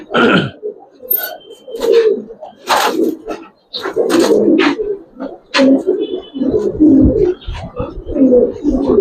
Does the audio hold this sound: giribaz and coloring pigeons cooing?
yes